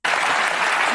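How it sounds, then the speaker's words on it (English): Audience applause breaks out abruptly and holds as a dense, loud, even wash of clapping from a large crowd for about a second. "oh, all the applause for what?"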